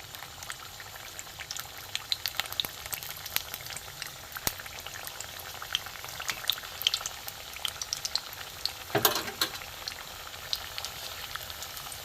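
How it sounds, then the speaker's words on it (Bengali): Bread pieces frying in moderately hot oil, a steady close sizzle and bubbling with frequent sharp crackles and pops, one brief louder burst of spattering near the end. "বেশি গরম করব না তেল, হালকা গরমে আমি এগুলো ভেজে নেব।"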